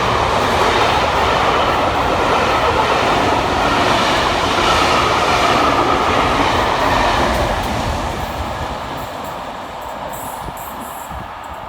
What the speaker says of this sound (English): A little bit of rail tour action for you now with 67005 top and tailing 67024